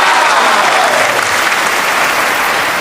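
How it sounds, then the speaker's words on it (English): Steady audience applause filling the room at a grandmother's home, dense and continuous clapping throughout with no break, loud and close. "Let's give them a clap for that one."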